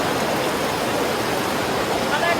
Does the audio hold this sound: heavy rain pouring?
yes